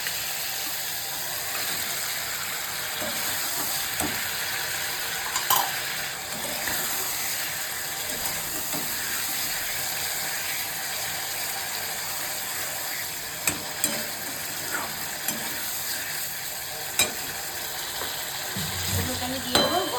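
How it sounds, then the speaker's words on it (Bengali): Pabda and amudi fish frying in oil in a home kitchen, a continuous hiss of sizzling oil with occasional clicks and utensil taps, moderately loud and steady throughout. "মাছ থেকে তেল ছেড়ে দিয়েছে। এবার মাছটা আমি দিয়ে দেবো তেলে।"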